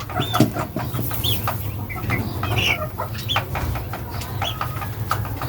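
A Bulik gamefowl chicken clucks repeatedly in short, close bursts over a steady low farmyard hum, with other soft bird calls mixed in.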